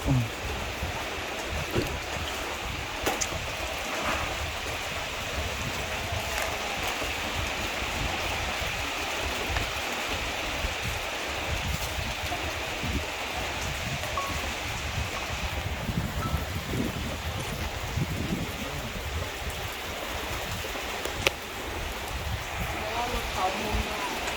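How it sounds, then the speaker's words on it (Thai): Steady rain falls as a continuous soft hiss with scattered drops and light wind over the microphone, recorded outdoors at moderate level with no clear talk. "ฝนตกครับ"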